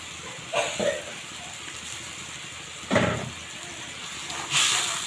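Washed shrimp drop into a hot pan for a Bengali ash gourd fry, setting off bursts of sharp hissing sizzle that flare up three times and settle back between the additions.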